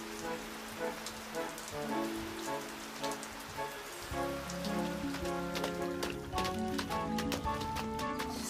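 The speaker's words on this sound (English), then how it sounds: "The raindrops make a splashing noise." Raindrops splash and patter in quick, uneven taps, growing busier partway through, with light musical notes playing alongside.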